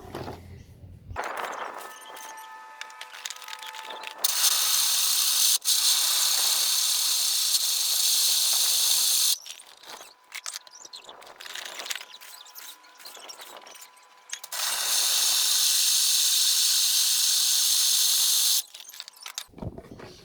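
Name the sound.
grain mill crushing malt for brewing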